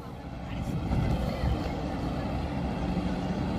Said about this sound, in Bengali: দেখো একটা ট্রলার সামনে